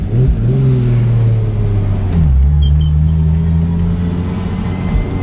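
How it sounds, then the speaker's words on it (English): A 2JZ-swapped Lexus SC430 pulls away with a deep, steady engine drone that dips briefly and settles into a loud, constant rumble close by. "All right, Andrew, let's go for a spin, man."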